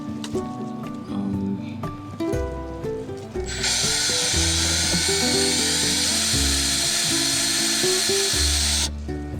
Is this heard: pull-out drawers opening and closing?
no